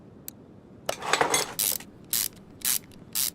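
A spring bolt fitted in Car Mechanic Simulator 2021 gives a short mechanical rattle followed by four evenly spaced, crisp metallic ratcheting bursts, close and fairly quiet, with no talk.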